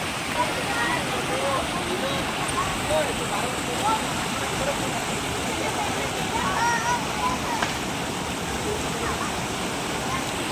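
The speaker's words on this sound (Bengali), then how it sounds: "এইভাবে জলটা বয়ে বয়ে নিচের দিকে চলে যাচ্ছে" Water rushes and tumbles downstream at an ashram in Assam, a continuous, dense roar of flowing water that holds steady from start to end.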